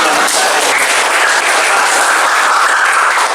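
Students in a classroom clap together loudly and close by, a dense burst of applause sustained for a few seconds with some crowd noise mixed in.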